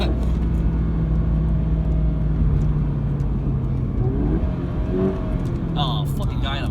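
A 2019 Toyota 86 sports car engine pulls out of a turn, a steady droning rumble that swells slightly as it accelerates, heard from inside the cabin with a voice briefly over it near the end.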